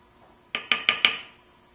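A spoon knocks against the inside of a pot four times in quick succession while a mixture for cultured butter is stirred, giving close, bright metallic clinks in a quiet kitchen.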